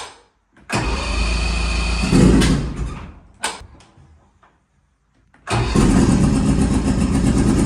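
A boat's outboard engine on a 17-foot boat cranks and fires, runs loudly, cuts out into near silence, then restarts and settles into a close, steady idle.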